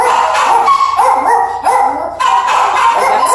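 Small adoption dogs in shelter kennels bark and yip repeatedly, loud and close, with overlapping barks and whiny calls from several dogs in an indoor room.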